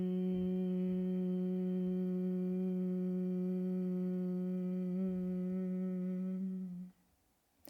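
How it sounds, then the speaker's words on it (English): A long, steady hummed exhale as part of a breathing exercise: one sustained, even voiced tone lasting about seven seconds, then stopping abruptly into near silence. "All you need to do is take 5 breaths and long hum your exhale."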